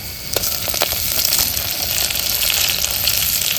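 Tomatoes and coriander dropped into a hot pan of oil and onions for village-style mutton cooked on a wood-fired chulha. There are a few soft plops at the start, then a steady loud hiss and sizzle.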